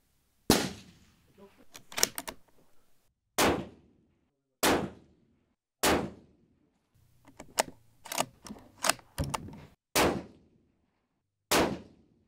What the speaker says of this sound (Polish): Strzelimy tanią kulką, 147, i strzelimy kulką Hornady, którą dostaliśmy razem z tym karabinem.